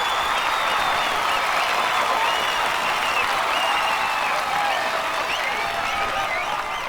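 A large crowd at a public gathering breaks into loud, sustained applause, with dense clapping and a few cheers running evenly for several seconds without a pause.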